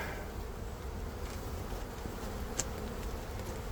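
Honeybees buzzing around an open busy hive during an inspection, a steady dense drone filling the whole clip at moderate level, close to the listener, with a brief sharp click partway through and no voices.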